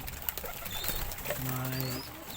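Pet pigeons, including grizzle, blue bar and checkered birds, coo in a low, soft rumble close by, with faint chirps and rustling around them; no talking.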